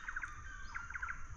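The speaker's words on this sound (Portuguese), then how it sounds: "Os pássaros cantando é bom demais." Small birds singing beside the Miranda River: quick, bright chirps in short clusters, faint and a little distant, over a soft steady background hiss.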